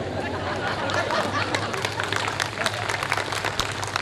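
Audience applause at a Hindi poetry event, scattered clapping with crowd chatter and some laughter, fairly close and uneven over four seconds.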